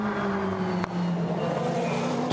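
A Ferrari race car, number 83, at the 24 Hours of Le Mans 2020 gives a loud, sustained engine roar with a steady tone that dips briefly before holding on, heard from close by.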